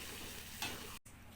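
Thick spice paste for goat gulai dry-roasting and being stirred in a pan, a steady close sizzle with a brief louder scrape partway, then a short dropout and the frying resumes.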